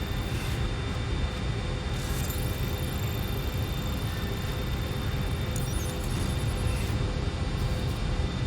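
A steady, loud engine drone from an airplane in flight in Watch Dogs Legion, continuous and broadband with no talking.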